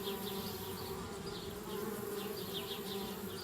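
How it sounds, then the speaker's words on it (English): Bees buzzing around a treehouse in the adventure game Anna's Quest, a steady insect drone with repeated higher buzzing swells passing close by over a quiet ambient bed, no speech. "Darn bees, trying to move into our treehouse."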